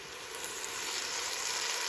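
Tomato paste sizzling and frying steadily in a pot, cooked for chicken kabsa, a continuous close crackling hiss with no voices over it.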